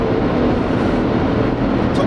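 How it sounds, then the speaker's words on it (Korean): A Mercedes-AMG GLE 63 4Matic driven in Sport Plus mode gives off a loud, steady engine roar with road noise, continuous and without talking. "자, 엔진 사운드도 그렇게 날카롭지 않습니다."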